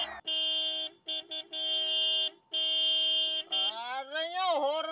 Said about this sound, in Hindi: हॉर्न मार रहे चोरा।